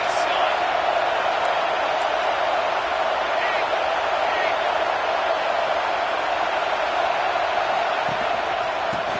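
A stadium crowd in the NCAA 25 college football video game roars steadily behind the defense, a dense, continuous wash of cheering noise with no breaks.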